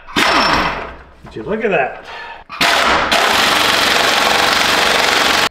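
A pneumatic impact gun rattles in loud, hard bursts as it snugs down motor mount bolts on a Cummins engine in a Ford dentside truck, with a short spoken line heard between the bursts.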